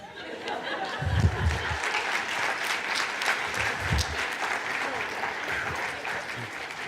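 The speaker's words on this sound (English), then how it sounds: "so thank you for applauding" Audience applause at a talk or conference session, a steady, moderately loud wash of clapping lasting several seconds, with a few faint low thumps and murmurs underneath.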